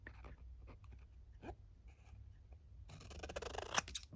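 Scissors snip through paper at close range during folio crafting, a few quiet cuts early on followed by a denser burst of crisp cutting and paper handling toward the end.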